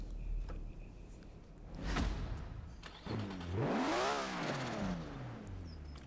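A Nissan Skyline GT-R R34 V-Spec II engine in Forza Horizon 4 cranks and catches, then revs up with a rising and falling whine, fairly close and steady, with no talking.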